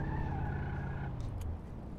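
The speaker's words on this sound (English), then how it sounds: "Yeah, this car really doesn't sound good." A car engine idles roughly in a video game, a low uneven drone with a rising-falling tone that sags and fades near the end, steady and fairly loud with a brief higher scrape.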